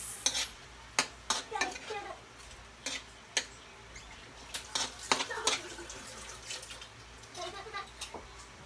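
A spoon stirring pork humba with bay leaves and peppercorns in a pot, scattered scrapes and clicks against the pan over a faint simmer, up close, with no voices.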